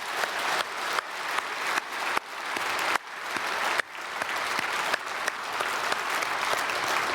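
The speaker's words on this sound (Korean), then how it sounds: "축복의 박수 보내드리겠습니다" Church congregation clapping in blessing at a Sunday Advent worship service, a dense, steady wash of applause filling the hall for the whole stretch, with brief dips and fresh surges but no voices.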